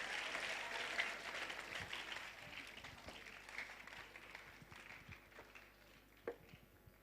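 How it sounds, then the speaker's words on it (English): A crowd at a formal ceremony in Ghana's Western Region claps to welcome a government official, steady mid-distance applause that gradually thins out, fairly quiet overall. "Please, let's welcome her with a round of applause."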